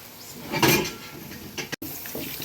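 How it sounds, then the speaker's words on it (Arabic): Broth and water are poured into a pot of chicken in sauce and stirred, making a soft liquid wash with a few close metallic scrapes and knocks against the pot. No one speaks. "هنا اهو نزلت بالشوربه وهقلب"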